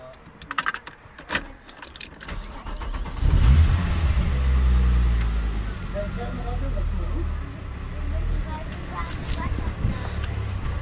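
A VW Golf 2 with a VR6 engine and Hartmann exhaust starts after some clicking and rattling, then idles and revs with a deep, throaty rumble up close while people talk over it.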